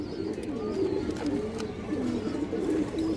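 Giribaz pigeons coo steadily in a loft, a continuous murmur of low, overlapping, throaty calls at close range with no voices.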